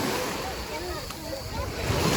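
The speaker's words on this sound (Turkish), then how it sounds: "Dalgalara bak." Choppy sea surf rolling onto the shore on a rough, wavy day where a small child is swimming, a steady broadband wash of breaking water close to the microphone, with faint voices mixed in.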